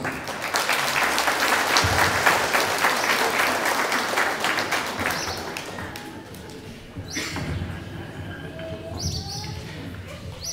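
Crowd applause at a civic ceremony for an outgoing municipal mayor, loud and sustained for several seconds before thinning into scattered claps with some birdsong and background voices.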